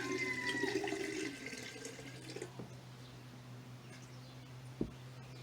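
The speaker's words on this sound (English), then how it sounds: "I am actually gonna add a little more water to here." Water trickles and splashes as it is poured into a small vessel holding honeysuckle and snowball bush cuttings, a soft pour fading out, followed by faint drips and a single light clink over a steady low hum.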